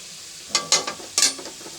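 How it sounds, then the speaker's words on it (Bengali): Potatoes frying in oil with cumin, bay leaf and turmeric: a brief burst of sizzling with a few sharp crackling spatters, close and fairly loud, then a softer hiss. "আলুটা দিয়ে নেবো তেলে"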